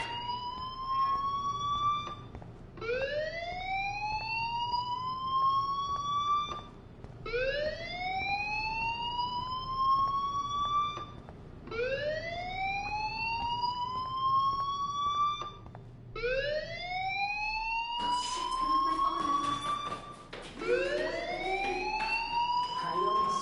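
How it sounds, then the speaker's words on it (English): A fire alarm in the video game Life is Strange wails in repeated rising sweeps, about five seconds apart, steady and loud, with the sweeps growing brighter and denser near the end. "do you hear that fire alarm? That means you should be outside."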